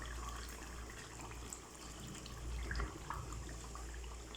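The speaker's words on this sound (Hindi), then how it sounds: "मैं यहाँ तकरीबन हाफ कप के करीब पानी डालूंगी" About half a cup of water pours into an egg curry gravy in a pan, a steady, continuous splashing gush over a low background hum, fairly close and unbroken for several seconds.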